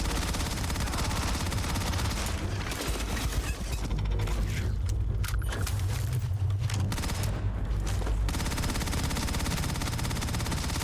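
Gunfire in the video game Starfield, with steady rapid bursts of automatic and repeated shots under continuous combat noise, loud and close throughout with no speech.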